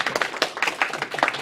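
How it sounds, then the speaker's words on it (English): Audience at a student panel clapping for the panelists, a short burst of scattered, fairly close hand claps with uneven rhythm. "Let's give them a round of applause."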